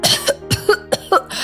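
A woman coughs five or six times in a sharp, rhythmic run, loud and close, with no talking.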